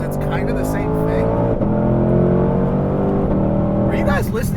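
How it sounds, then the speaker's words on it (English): A 2020 Ford Mustang Shelby GT500 engine roars loudly from inside the cabin, its steady drone broken by two quick dual-clutch gear shifts, with voices talking over it. "Like Mustang ripping off DCT shifts like that."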